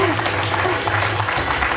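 A game show studio audience applauds a contestant with a full, steady round of clapping that is loud and close, and a voice talks over it.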